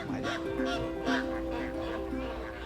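A flock of flamingos calls in a busy, overlapping chorus of nasal honking notes, repeating rhythmically at moderate distance.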